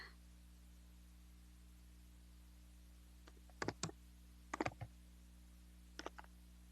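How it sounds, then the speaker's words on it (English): Scattered clicks from a computer keyboard, a few short bursts of keystrokes separated by quiet gaps over faint steady hum, near and alone without speech. "I'm still typing."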